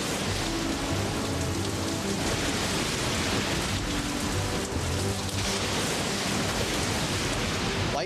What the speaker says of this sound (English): Storm came back.